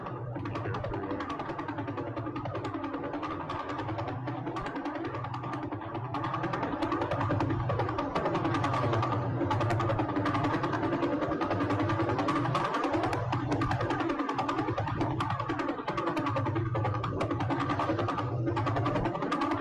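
A pulsar's signal converted to audio: a steady, rapid rhythmic pulsing with a buzzy, mechanical drone, continuous and even in level throughout with no voices.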